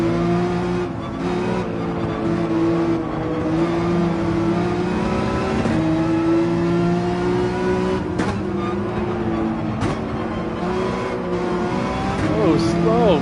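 A race car engine in Gran Turismo 7 at the Spa circuit holds a loud, sustained drone, rising and dipping with gear shifts and braking, with tire noise. Someone talks over it throughout.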